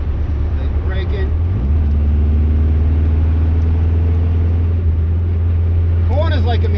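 1974 Saab Sonett braking into a corner: a loud, close engine drone whose note rises and then holds steady, with a voice briefly talking near the end.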